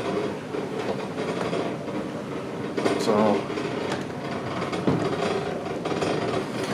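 Ladders rattle in the saloon below deck aboard the Kingswear Castle paddle steamer, a steady metallic clattering and rumbling mixed with vessel vibration, with a brief spoken word partway through.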